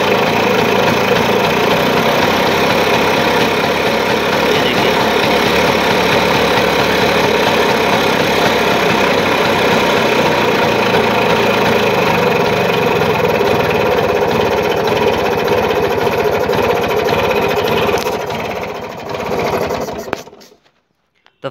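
A Bajaj Chetak scooter engine idles steadily and loudly, the revs climbing as the idle screw is turned clockwise, before the sound cuts off abruptly near the end.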